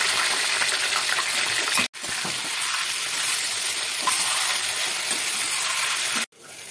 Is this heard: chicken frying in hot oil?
yes